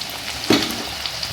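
Onions going into hot oil for a cauliflower and chicken dish give a steady close sizzle, with one sharp spitting burst midway as they hit the pan.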